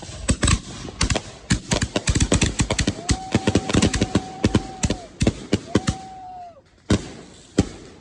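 Fireworks shells launching from a 20-shot standing mortar rack at a Fourth of July shoot: a rapid, loud barrage of sharp pops and bangs in quick succession, with a couple of rising whistling tones threaded through the volley.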